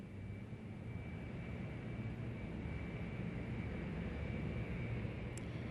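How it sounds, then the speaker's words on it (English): Elvis's jet airplane taking off near Kansas City, a steady, dense engine roar that holds level throughout with a faint thin whine on top, heard alone without voices. "As the jet gets airborne"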